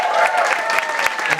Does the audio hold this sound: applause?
yes